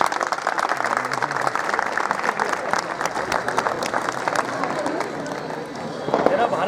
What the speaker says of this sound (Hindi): अब सभी शहीद योद्धाओं के लिए शानदार तालियों द्वारा अभिवादन पेश करें।